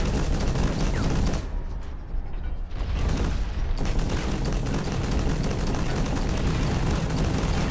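Dense, continuous gunfire in the mech shooter game Hawken, with rapid bursts and heavy booming impacts that briefly thin out before the barrage resumes at full loudness.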